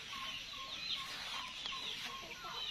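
Chickens clucking on a farm, a steady chorus of short, repeated clucks and calls from several birds over constant outdoor background noise.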